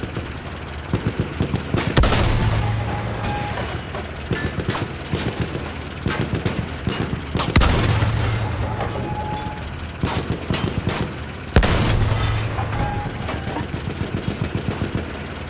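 Sustained machine-gun fire from the rear gun of a jeep in Battlefield 1 rattles in long, rapid bursts, with heavy blasts landing at intervals. The shooting is loud and close throughout.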